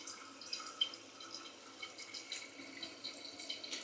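Water from a Korky 528 Pro toilet fill valve splashing and dripping in the tank, a faint, quick irregular patter of drips and light spatter, close and continuous without speech.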